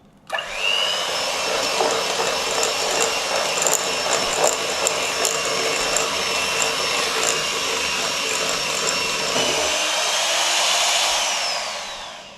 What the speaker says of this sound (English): Now I'm going to use the hand beater and then mix it up until we have a smooth batter.